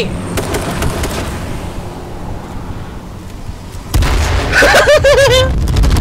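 A loud grenade explosion in the video game H1Z1: King of the Kill bursts suddenly, followed at once by an excited, shouting voice over rumbling noise.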